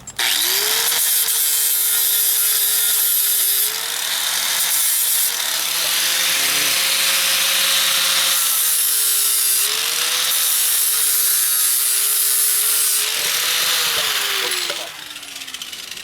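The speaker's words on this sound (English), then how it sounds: "All I'm doing is cleaning the rust off the surface where I'm going to be welding." Loud power tool, likely a grinder or wire wheel, cleaning rust off a metal surface before welding, running continuously at a steady whine that dips slightly in pitch under load.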